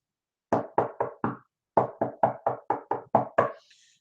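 Knocking on a door in two bursts, four firm raps and then seven more, close and sharp against silence.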